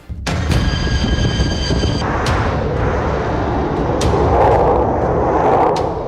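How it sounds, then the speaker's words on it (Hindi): Fighter jets and reconnaissance aircraft take off from a US Navy aircraft carrier, a loud, continuous roaring rush of jet engine noise with a high whine at the start and brief sharp bangs throughout. "फाइटर जेट, टोही विमान, सभी एयरक्राफ्ट कैरियर से टेक ऑफ कर रहे हैं।"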